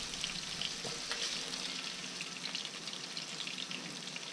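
Speckled trout frying in cooking oil in a pan, a steady close sizzle with soft crackles throughout, fairly quiet and without talk.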